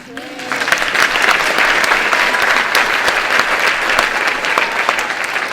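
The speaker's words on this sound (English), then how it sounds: "That's a hand of applause for those gentlemen." An evening assembly audience breaks into loud, sustained applause, many hands clapping together in a dense, even roar that starts after a brief voice at the very beginning and holds steady to the end.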